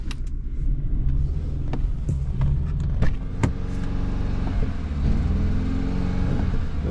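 A Cadillac truck engine runs with a low, steady rumble and seems short on power; a few sharp clicks and knocks sound close by over the drone.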